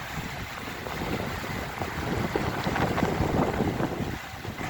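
Storm floodwater surges and washes through Perkins Cove in Ogunquit, a steady rushing, splashing wash mixed with gusty wind buffeting the microphone, with no voices.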